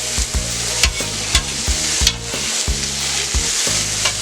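Potatoes fry in a pan on a stovetop, giving a steady, close, loud sizzle with rhythmic scraping and stirring strokes as they are spread into one layer.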